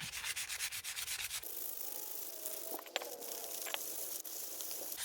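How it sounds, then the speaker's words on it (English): A brake disc surface being roughed up by hand sanding during handbrake shoe adjustment on a Nissan S15 Silvia, a steady rasping rub with rhythmic back-and-forth strokes, close and continuous with a few small clicks. "So we're just going to rough up the surface just a little bit."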